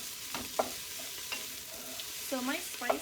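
Jalapeno being stirred in a pot of frying turkey chili base: a spoon scrapes in several short, uneven strokes over a low background sizzle, close and fairly quiet, with no talking.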